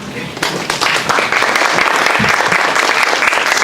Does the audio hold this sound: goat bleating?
no